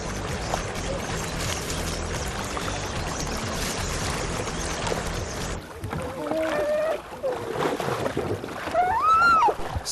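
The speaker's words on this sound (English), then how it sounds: "The paddler in the back can effectively drift the tail of the kayak with a wide sweep." A double kayak paddle sweeps wide through the water, a steady rushing pour and splash for several seconds, then quieter dripping and swirling strokes with a few sharp squeaky tones near the end.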